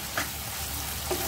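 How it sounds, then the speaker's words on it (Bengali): Fried potatoes being stirred and sautéed in a pan while cooking a paneer and peas curry, a soft steady sizzle with a couple of faint scraping stirs. "এটা একটু ভালো করে কষিয়ে নিতে হবে, নইলে ভালো লাগবে না।"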